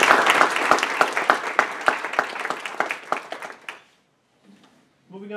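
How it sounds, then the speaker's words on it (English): Audience at a school board meeting applauds the parents, a dense burst of many hands clapping for several seconds that thins out and stops, followed by a brief quiet and the start of a voice. "Let's have a round of applause for the parents also,"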